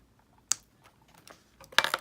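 A hobby knife cutting a small plastic part on a cutting mat for a scratch-built model, two sharp close clicks of the blade, the second a quick double cut, with quiet between.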